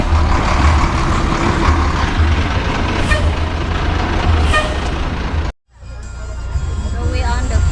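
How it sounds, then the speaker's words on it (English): A chicken bus in Guatemala pulls up with a loud, steady diesel rumble and road noise, a hiss of air brakes, and a sudden cut before the engine idles on. "I think that's our bus."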